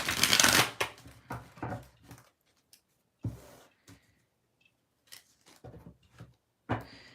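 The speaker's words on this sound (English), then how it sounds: "let's go ahead and just pull some tarot cards" Tarot cards being shuffled close up, a burst of riffling followed by several shorter bouts of card handling with quiet gaps between them, no talking.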